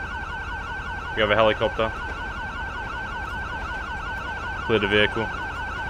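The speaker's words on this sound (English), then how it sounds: "let's turn the siren off. I think I just turned it on, actually." A police car siren in the video game LSPDFR wails steadily through the whole stretch, with short bursts of spoken dispatch-style voice lines over it.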